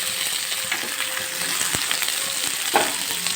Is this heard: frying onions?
yes